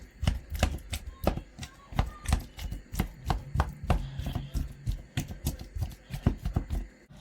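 Potatoes being mashed with Emmental cheese and a splash of milk, a rapid series of soft, squelchy thumps and scrapes from the masher, close and steady with no talking.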